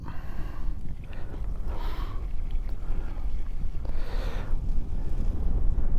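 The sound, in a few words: wind picking up outdoors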